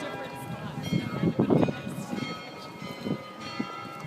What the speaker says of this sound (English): The bells are playing in the tower.